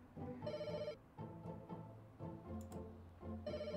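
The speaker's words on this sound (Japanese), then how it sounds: "ちょっと電話が鬱陶しいね" A telephone in the Pets Hotel video game gives repeated electronic ring bursts, each lasting about half a second to a second, with short gaps between them. The rings are clear and alone, with no talk.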